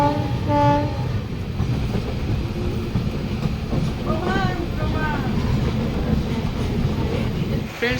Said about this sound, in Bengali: সঠিক টাইমের আগেই ট্রেনটা প্ল্যাটফর্মে ঢুকিয়ে দিয়েছে